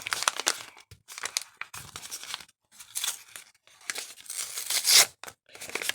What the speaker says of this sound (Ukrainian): А зараз ми відкриємо ось такий пакетик